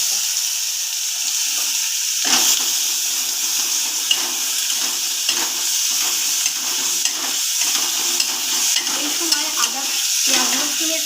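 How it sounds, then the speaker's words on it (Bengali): Bay leaves, garlic and onion frying in hot oil, a constant crackling sizzle punctuated by repeated stirring scrapes and clinks of a spoon against the pan, loud and close. "এই তেলেই কিন্তু আমি দুটো তেজপাতা দিয়ে দিলাম দিচ্ছি অল্প রসুন হ্যাঁ অল্প পেঁয়াজ"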